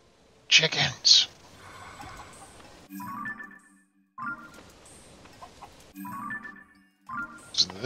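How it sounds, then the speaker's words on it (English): Chickens clucking in Zelda: Tears of the Kingdom, a few sharp squawks followed by repeated nearby clucks in short bursts, with a person talking over them. "Chickens."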